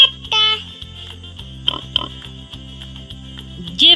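Piglets oinking in a couple of brief grunting bursts over a continuous musical backing, with a short vocal sound near the end.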